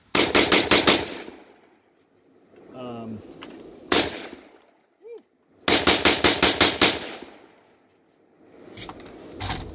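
An Izhmash Saiga .223 / 5.56 rifle fires loud, close rapid strings of shots in two bursts, then a lone shot near the end, with talking in the gaps between.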